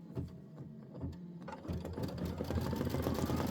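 Aveneer embroidery machine stitching sky fill, a continuous rapid needle rattle with a low mechanical hum that grows slightly louder and denser toward the end, heard up close and alone.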